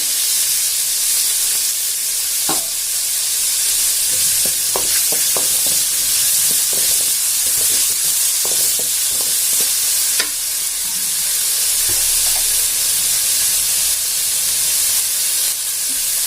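Chillies, onion and curry leaves sizzle loudly in a hot pan, a constant frying hiss broken by repeated scraping taps of a spoon as they are stirred.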